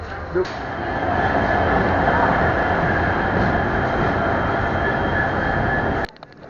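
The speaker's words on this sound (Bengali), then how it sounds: "ঠিক 3 মিনিটের পর আমাদের এখন ট্রেন ছেড়ে দেবে রঙ্গিয়া জংশন থেকে" A train's deep, continuous rumble as it departs Rangiya Junction fills the space, heavy and close, before cutting off abruptly near the end.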